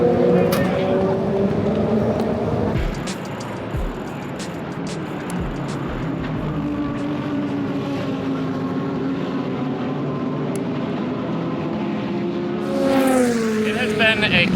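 Race cars roar away at the green flag of the Sebring 12 Hours, engines droning loudly and steadily past, with a fresh surge of approaching engines near the end and a voice speaking over the noise.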